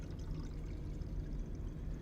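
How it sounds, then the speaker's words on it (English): PBS solution poured into a bottle in a tissue culture lab, a steady low gurgling stream of liquid running continuously and close by, with no talk over it. "I'll pour the rest in here."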